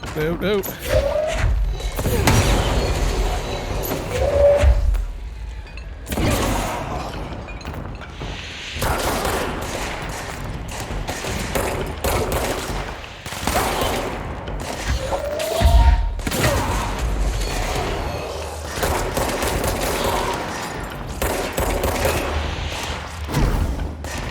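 Sniper gunfire in the video game Anarchy Online: scattered sharp thuds and booming shots recur irregularly over a steady background, with someone talking now and then.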